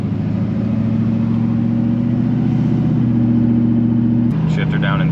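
Duramax diesel truck fitted with a 5 inch exhaust tip pulls hard, a loud steady drone rising in pitch before a shift near the end, with voices heard over it.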